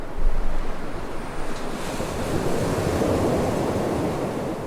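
Sea waves roll and wash against the shore in a broad, continuous roar, with gusts of wind buffeting the microphone, no voices present.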